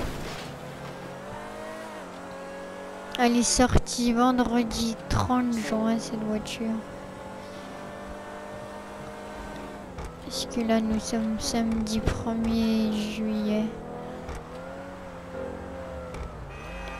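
A car drives on the highway in GTA 5, its steady engine drone running under continuous French talk, with a few louder revving bursts partway through.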